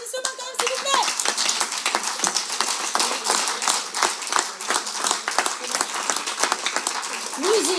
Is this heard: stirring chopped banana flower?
no